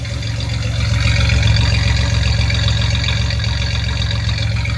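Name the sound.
1989 Chevy Celebrity 2.8 V6 engine idling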